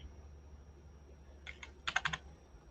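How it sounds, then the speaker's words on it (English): Fingers tap a computer keyboard in a short, quiet burst of about half a dozen clicks, after a stretch of faint room hum. "I'm going to type it in here"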